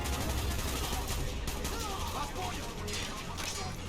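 Rapid gunfire from a Call of Duty: Black Ops battle, with dense bursts of shots and machine-gun fire rolling on without a break under a voice.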